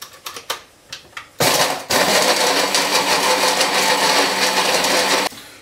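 An electric grinder turns granulated sugar into powdered sugar, a loud, steady whirring buzz running for several seconds after a few short clicks and brief pulses, then cutting off abruptly.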